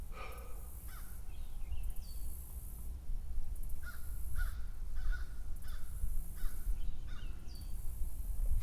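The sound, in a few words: birds chirping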